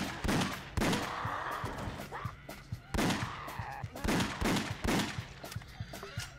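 Rapid gunshots ring out in a shooting game, House of the Dead Overkill, as a dense series of sharp, loud cracks that repeat in clustered volleys across the whole stretch, with no voices.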